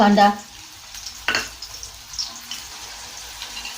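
Finely chopped onion goes into hot, odorless oil for a mustard greens dish, a sudden loud burst of sizzling that quickly settles into a quieter, crackling hiss.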